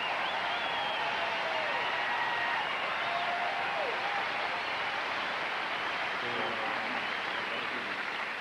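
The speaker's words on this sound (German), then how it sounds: "Man bekommt endlich auch mal eher den verdienten Applaus" Tennis crowd at the 1995 Montreal final between Agassi and Sampras applauding a point won by Sampras, a fairly faint wash of clapping across the stands with thin whistles and cries drifting over it, fading slightly near the end.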